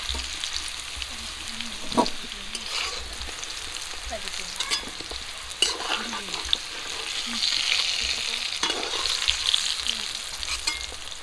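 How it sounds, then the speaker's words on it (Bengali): Bay leaf, slit green chilli and chopped onion hit hot oil for a river rui fish curry, producing a loud, continuous crackling sizzle with occasional stirring scrapes and no speech. "দিয়ে দিচ্ছি তেজপাতা, কাঁচা লঙ্কা চেরা, পেঁয়াজ কুচি"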